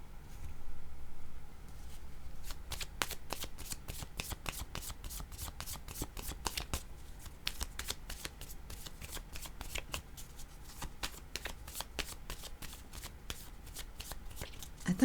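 Playing cards shuffled by hand, a rapid fluttering riffle of crisp snaps repeating through most of the passage at close range, with faint background noise and no talk.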